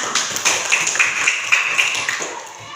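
Short burst of applause from a classroom of students, a scattering of quick claps rising and falling in close succession for a few seconds.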